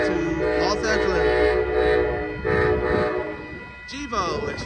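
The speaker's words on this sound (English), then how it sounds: "here comes Amtrak Coast Starlight train number 11" Amtrak Coast Starlight passenger train number 11, led by a P42 locomotive, passing on the Coast Subdivision at Edes Avenue in Oakland, with loud, close, repeated horn blasts over rumbling rail noise.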